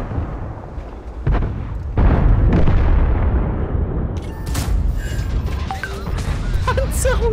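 In World of Tanks, a tank's main gun fires with a heavy boom and a big explosion follows, with loud rumbling blasts and mechanical clatter sustained throughout, close and dominant.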